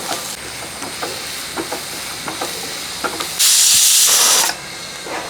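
A pressure cooker cooking beef kurma lets out a loud, steady hissing whistle for about a second after some quieter kitchen clatter.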